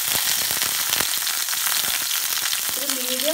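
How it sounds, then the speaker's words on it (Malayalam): Curry leaves sizzle and crackle steadily in a hot pan, a dense, continuous frying hiss that stays loud throughout, with a short voice entering near the end. "അപ്പോൾ ഈ പാനിലേക്ക് നമുക്ക് ആദ്യം കുറച്ച് കറിവേപ്പില ആഡ് ചെയ്ത് കൊടുക്കാം."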